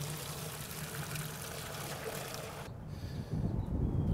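About 2.5 gallons of plain water pours steadily into a crawfish steaming pot over a six-pack of Abita Turbo Dog beer, a continuous close splashing rush that shifts in tone partway through.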